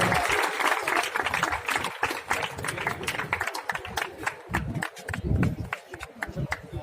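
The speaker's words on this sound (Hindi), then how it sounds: "जोरदार तालियों के साथ स्वागत करें।" A crowd applauds loudly and steadily at an Independence Day program at a civil hospital in Sirsa, dense clapping that runs the whole length with people talking over it.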